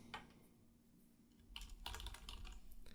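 Someone types on a computer keyboard in a text editor. Faint, sparse key taps give way to a denser, louder run of clattering keystrokes in the second half, in a quiet room.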